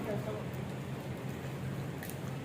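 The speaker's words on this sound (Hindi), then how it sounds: "ये बारिश हो रही है, छतरी ले लेनी चाहिए थी हमें।" Steady rain patters continuously with a broad hiss, with a low rumble underneath and no clear voices.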